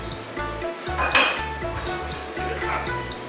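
Pigeon, lean pork, lotus seeds and herbs go into a 3.5-litre clay pot, giving a few close clinks and knocks of ingredients and utensils against the pot in a short, quiet burst.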